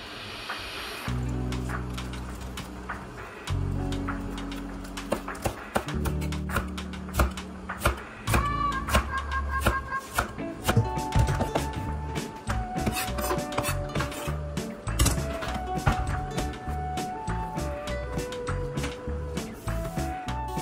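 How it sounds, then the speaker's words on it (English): Cabbage is sliced thinly with a knife, a close series of rasping, scraping cuts with quick irregular taps on a board, growing faster and busier toward the end. "then I put it on like this to slice it thinly."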